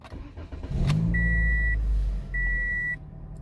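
A car engine turning over and firing up close by, settling into a steady idle while a pair of electronic dashboard chimes beep in two sustained tones.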